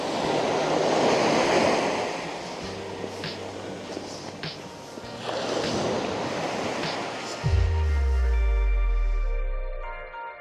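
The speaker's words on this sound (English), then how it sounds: "It's a nice little beach, isn't it?" Waves wash onto a small beach in two broad surges, with gusty wind noise over the microphone. Near the end, a loud, low droning hum rises over the surf.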